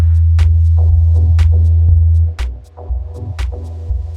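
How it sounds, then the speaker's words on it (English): A deep, steady synthesized sine-wave bass tone on E hums continuously, with a few faint clicks and soft pulses scattered over it. "put in a sine wave here on E and bump it right down to like the bass frequencies"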